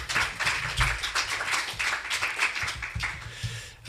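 Audience applause after a talk at an architecture event, a dense patter of many hands clapping steadily and moderately loud for several seconds with no talk over it.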